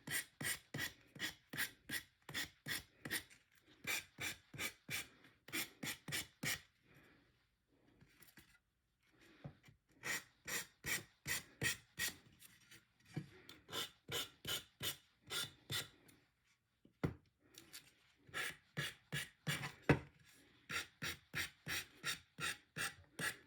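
Rapid back-and-forth rasping of sandpaper rubbed by hand over vinyl, in quick rhythmic bursts with short pauses between, close and dry with no talking.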